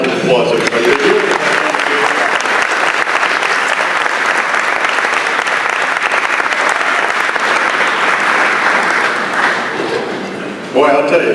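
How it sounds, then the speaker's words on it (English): A meeting audience gives a long, loud round of clapping that stays dense and even before tapering near the end, when a voice returns over it. "Let's give them a round of applause, everybody."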